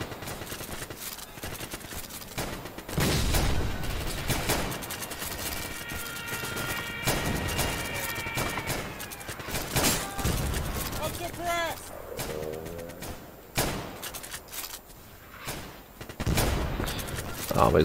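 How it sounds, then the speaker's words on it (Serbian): Artillery fire in the Easy Red 2 war game: repeated booms and gunfire bursts sound at varying distances under almost continuous talking. "Ovdje gađa i artiljerija."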